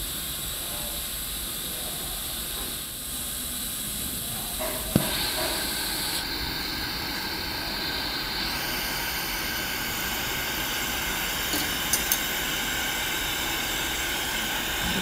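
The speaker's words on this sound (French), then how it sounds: "au lieu d'avoir un chalumeau à 8 trous, on a un chalumeau à 24 trous" Steady hissing roar of a 24-hole glassblowing torch flame used for making glass beads, continuous and fairly loud, with a few small clicks and a shift in tone partway through.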